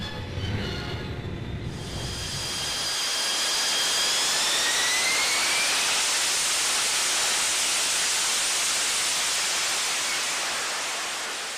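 The Short Sherpa, an experimental jet aircraft on test trials, winds up from a low rumble into a loud, broad jet roar, and a rising turbine whine sweeps upward through the noise.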